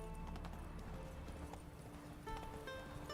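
Hoofbeats of Roach, the horse in The Witcher 3 video game, gallop in a quick, steady clip-clop rhythm, fairly faint and close, with no talking over them.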